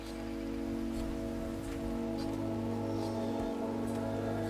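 Steady blood rain falls in a RimWorld colony, a constant soft patter of drops on surfaces beneath a low ambient hum.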